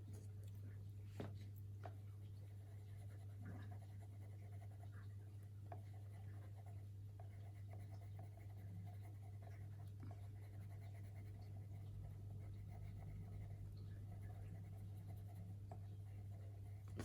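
Luminance colored pencil drawn lightly across paper, giving a soft, continuous scratchy shading sound with faint strokes over a steady low hum.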